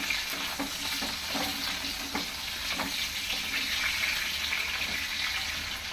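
Chopped onions, about a cup, fry in oil for onion chutney, giving a steady close sizzle with occasional spatula scrapes and stirring clicks throughout.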